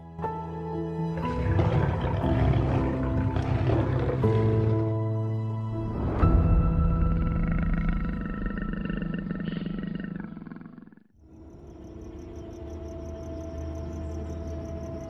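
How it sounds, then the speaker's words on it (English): A wild lion on the African savannah gives deep, rumbling roars, a series of loud, resonant calls that rise and fade over several seconds, followed by quieter ambient sound with faint insect chirping. "Where the lion's roar is heard, that is its kingdom."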